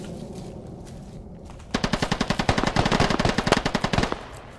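Automatic gunfire in the military shooter Squad: a long, rapid, evenly spaced burst of about twenty loud, close shots follows a quieter stretch of background noise.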